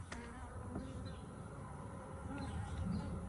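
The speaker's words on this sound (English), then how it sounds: "Bees have getting a little antsy" Honeybees buzz around an open hive, a faint, dense, continuous drone of many wings with occasional louder passes close by, and no voices.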